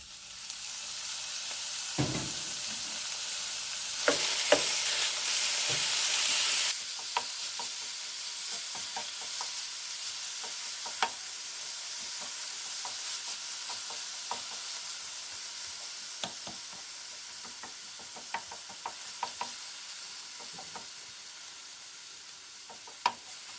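Ground beef sizzles in a pan for loaded nachos, a steady frying hiss broken by scattered scraping stirs and clinks, with a loud burst of sizzle early on.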